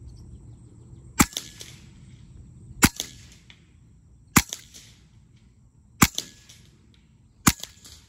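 An AEA HP Carbine .30 caliber air rifle fires five sharp, loud shots at steady intervals of about one and a half seconds, each crack followed by a brief ringing echo and a faint second tap.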